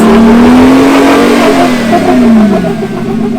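An off-road vehicle on new Milestar Patagonia tires revs hard, its engine loud and close, the pitch rising and then falling over about three seconds in one continuous roar.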